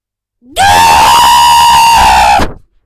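A sea monster's single loud, sustained screeching scream with a harsh, strained tone, holding steady for about two seconds before cutting off abruptly.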